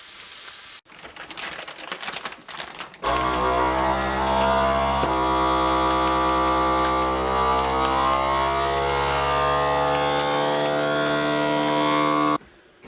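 A FoodSaver vacuum sealer runs on bags of homemade sausage in an off-grid cabin, first with a few clicks and rattles, then a loud steady motor hum that drones evenly for about ten seconds before stopping, with no talking.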